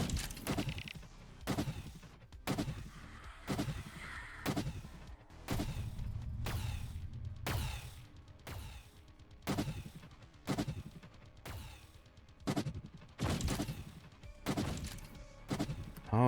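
Rapid gunfire from the video game Decurion as shots knock projectiles out of the air, sharp repeated bursts and cracks in an irregular rhythm with occasional heavier thumps.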